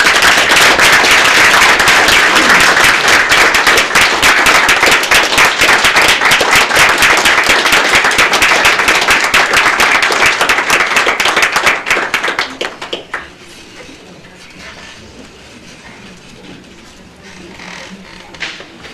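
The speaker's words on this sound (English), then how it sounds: "Let's give another round of applause." Loud, dense clapping from a large crowd at a city commission meeting fills the first twelve seconds, then fades out, leaving a quiet room with faint scattered sounds.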